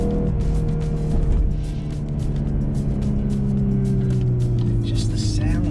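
A VW MK8 Golf R in sport mode, its engine and exhaust giving a steady low rumble heard from inside the cabin. The drone slowly drops in pitch and stays loud and continuous throughout.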